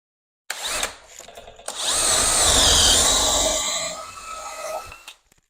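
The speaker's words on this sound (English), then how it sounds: "I'm going to use the 10mm bit." A power drill fitted with a 10mm bit bores through a wooden layout baseboard, a short whir followed by a loud, sustained grinding whine that winds down and stops.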